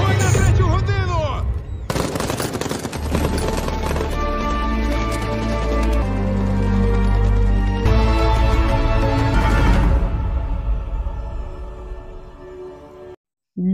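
Machine gun fire rattles in a film scene, long loud continuous bursts of rapid shots with booming impacts, laid over a dramatic musical score before cutting off abruptly.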